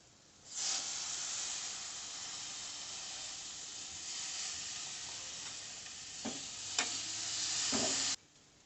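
Karisilanganni keerai greens sizzle and hiss steadily in a hot pan, a soft broad crackle with a few scrapes and clinks of stirring near the end.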